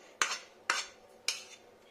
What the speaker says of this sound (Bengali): এবার আমি যে পাত্রটা করে সবকিছু মিশিয়েছিলাম সেটাতেই ঢেলে নেব।